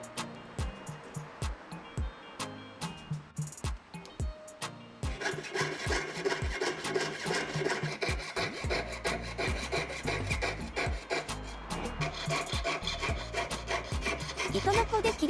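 A jeweler's fine saw cuts metal parts for a lapis lazuli pendant, giving a steady stream of close, rhythmic scraping strokes, sparse and light at first, then continuous and busier through the rest.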